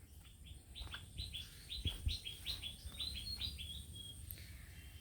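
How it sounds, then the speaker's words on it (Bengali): Rapid, bright bird chirps repeat in quick runs over faint outdoor background noise, with a few soft thumps underneath. "সব ধরনের পাখি ডাকাডাকি করে"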